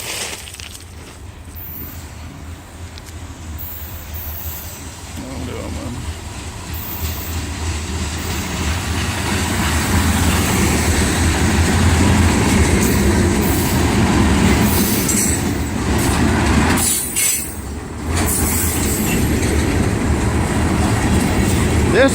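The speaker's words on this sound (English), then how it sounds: "This is the train that I saw before." A freight train rolls past on a nearby track, a continuous rumble of railcars with wheel squeal and rattling that grows louder and stays steady, with faint talk in the background.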